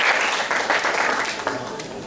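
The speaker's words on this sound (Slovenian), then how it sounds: "En aplauz, Leo." Audience applause at a film premiere and panel discussion, a steady wash of clapping that stays loud throughout and fades slightly toward the end.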